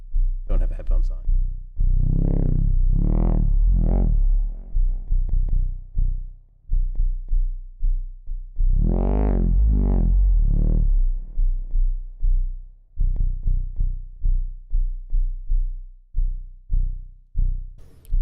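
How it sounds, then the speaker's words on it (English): Sonified sound of the stars moving above us: deep, swelling throbbing tones that rise and fade in slow waves, broken by bursts of pulsing low thumps, loud and close, with no voice. "This is the sound of the stars moving above us."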